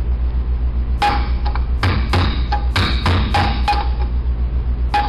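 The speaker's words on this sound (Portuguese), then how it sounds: "Com o punção, bata ao redor da bucha." Sharp metallic hammer blows strike a punch driven around a bushing to knock it out of a starter motor bracket, about a dozen close, ringing hits in uneven bursts over a steady low hum.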